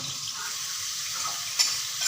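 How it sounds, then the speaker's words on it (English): Prawns frying on a hot tawa over a high flame, giving a steady, even hiss of sizzling and spitting moisture with a brief louder crackle near the end; no voices. "Now adding the prawns into tawa. Both the side we have to fry it well."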